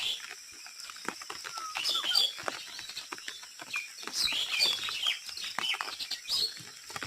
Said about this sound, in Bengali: অনেক ধরনের পাখি আসছে এখানে, অনেক দূর দূর থেকে পাখি আসছে।